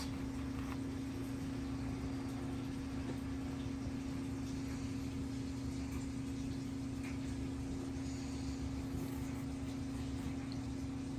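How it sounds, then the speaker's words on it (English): Steady mechanical hum with a constant low drone and sloshing, churning noise, like a washing machine running nearby, continuous and unchanging throughout. "We got the washing machine going."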